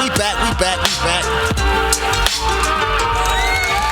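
A crowd cheers and whoops over dense background music on a podcast show, with a burst of noise near the start and sustained enthusiasm throughout.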